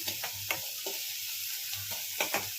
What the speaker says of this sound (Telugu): ఇలా సిమ్లో పెట్టి నెమ్మదిగా అలా ఫ్రై చేసుకోవాలి